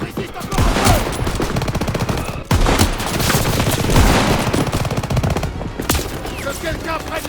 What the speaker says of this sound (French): Que quelqu'un prenne la mitrailleuse!